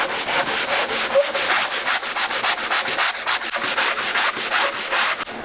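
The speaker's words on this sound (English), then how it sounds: "let the sanding block do the work" A sanding block with 60-grit paper scrubs over dried drywall mud on a wall patch in quick, regular back-and-forth strokes, a rhythmic rasping close up with no talking.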